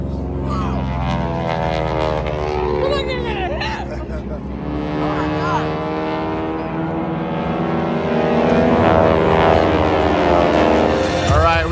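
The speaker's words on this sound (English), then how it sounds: "we got the paramotor guys going on up here" Paramotor propeller engines droning overhead at a nighttime fire show, a sustained buzzing hum with shifting pitch as they pass, fairly loud under people talking nearby.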